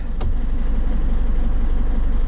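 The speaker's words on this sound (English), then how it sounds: "So watch when I try and put it into gear now. Look at the revs." A truck with a suspected clutch pack fault runs steadily and loud nearby as it is put into gear, a low continuous engine drone with a brief sharp click near the start and no clear rise in revs.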